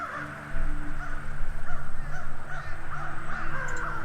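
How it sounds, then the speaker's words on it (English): Several crows caw in the video game The Night of the Rabbit, harsh calls overlapping in irregular bursts against a low ambient drone, fairly close and with no talking. "Drawn by the grey mountain, by stench and disease, the crows came."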